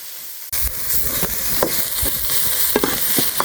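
Curry paste and shallots hit a hot pan for a stir-fried eel dish, bursting into a loud continuous sizzle with scraping stirs and small spatters throughout.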